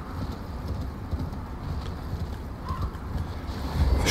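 Muffled rhythmic hoofbeats of a galloping horse in the video game Elden Ring, at Mt. Gelmir, run steadily through a dull, windy rumble, fairly soft and continuous.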